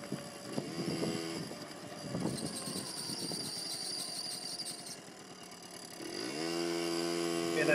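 A 1985 Yamaha QT50 moped engine runs through an alley during break-in, its buzzing drone rising and falling as the throttle varies, then climbing steadily in pitch near the end under light wind noise.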